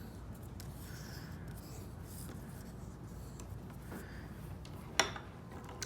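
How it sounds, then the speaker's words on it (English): Paper being folded with a bone folder while a board book is made, its sides creased with soft rubbing and scraping strokes. The sound is close and quiet, with a sharper tap near the end. "a bone folder, we can go ahead and fold in both sides, our short sides first, and then we'll fold up our bottom."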